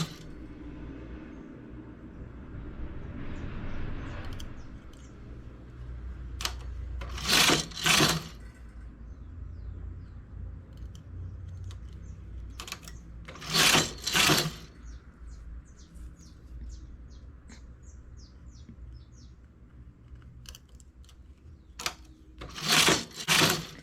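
Knitting machine carriage sliding across the needles to make a tulle skirt, heard in three short, sharp clattering bursts separated by quiet stretches of low room hum and small clicks.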